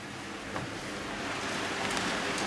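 Rain falls outside a window in Paris as a steady, even hiss of dense drops, continuous and fairly close, with no voices.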